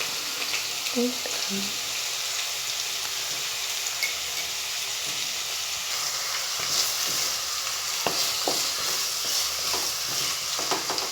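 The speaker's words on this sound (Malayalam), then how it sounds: "ആഡ് ചെയ്ത് മിക്സ് ചെയ്ത് ഒന്ന് വഴറ്റിയെടുക്കാം." Onions with a pinch of salt sautéing in hot coconut oil for a homestyle chicken curry, a continuous close sizzle with occasional light scrapes and taps of stirring, no talking.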